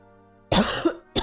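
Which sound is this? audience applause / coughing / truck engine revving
coughing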